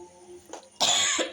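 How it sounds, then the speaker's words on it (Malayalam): Someone coughs sharply while chili fries for mango pickle, a faint kitchen background first, then a loud harsh burst of coughing and throat clearing close by. "ഞങ്ങളിവിടെ തുമ്മി തകർക്കാണ്."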